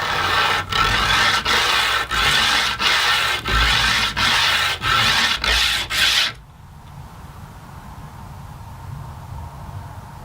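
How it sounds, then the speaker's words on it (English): Edge of a glass bottle being sanded on 150 grit sandpaper stuck to a flat beam: nine or ten loud, rhythmic rasping strokes close up, then stopping into quiet room noise. "Let's start sanding."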